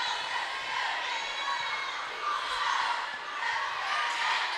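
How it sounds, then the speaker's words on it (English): A crowd at a high school volleyball match keeps up a steady, fairly distant roar of cheering and shouting for the whole stretch, swelling slightly now and then. "The crowd is really into it."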